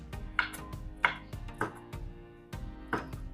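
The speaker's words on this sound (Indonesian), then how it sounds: "kita potong-potong tipis-tipis seperti ini" Roasted garlic cloves sliced thinly with a knife on a cutting board, a series of sharp, evenly spaced chopping taps, close and clear, about six strokes with no talk.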